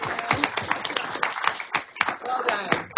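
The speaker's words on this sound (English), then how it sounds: "How about a round of applause for Beck's Broth," Scattered clapping from an audience at an agri-tech pitch competition, a run of sharp irregular claps close by, with some voices mixed in.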